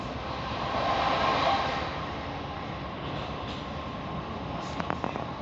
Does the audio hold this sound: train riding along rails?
yes